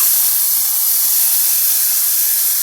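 Chopped vegetables drop into a hot pan and sizzle with a loud, steady hiss that runs unbroken the whole time, close and alone.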